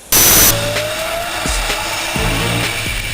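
An 85bhp motorised luge accelerates hard with the throttle held open, its engine note loud and close with a rising whine and steady rough roar after an initial burst, punctuated by rhythmic thumps.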